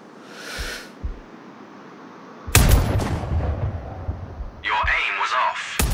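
Sniper rifle shots in the video game Sniper Ghost Warrior Contracts: a sharp, loud report cracks out and trails off into a long rumbling echo, with quieter game sounds before and a burst of further activity near the end.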